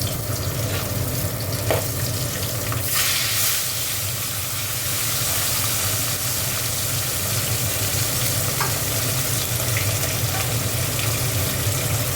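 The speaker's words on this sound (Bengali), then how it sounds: "মাছটা এবার ভেজে নেবো" Bata fish rubbed with salt and turmeric fries in a kadai, giving a loud, continuous, even sizzle and hiss that holds steady from start to finish with no voices.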